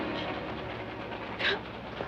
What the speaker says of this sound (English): The first thing you can do is stop this train